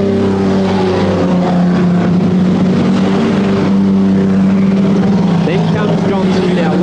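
Stock cars race around a track in a continuous loud engine roar with droning tones that rise and fall as cars pass, while a commentator talks over the noise.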